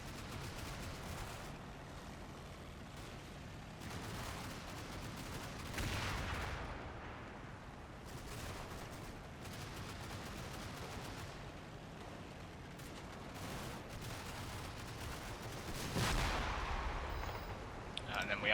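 Rifle and machine gun fire in the Combat Mission: Fortress Italy wargame, with scattered distant shots, bursts and artillery-like thumps rising and falling across the battlefield, while a voice talks faintly in places.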